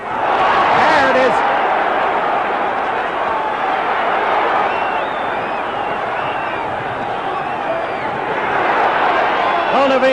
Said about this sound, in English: Crowd alive for a change.